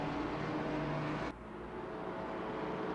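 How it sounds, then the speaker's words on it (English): Maserati MC GT4 race car engine in Assetto Corsa Competizione, a steady droning hum that drops abruptly in pitch and level as the engine note changes. "We get the Maserati that we're driving right now."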